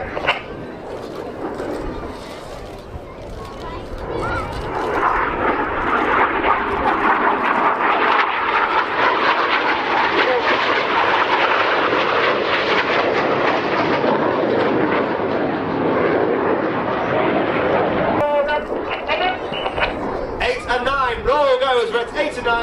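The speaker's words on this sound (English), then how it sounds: "Each aircraft will perform a barrel roll." Red Arrows jets rolling through a barrel-roll display at Old Buckenham Airshow, a loud, sustained roar swelling after a few seconds and holding steady, with a commentator talking over it.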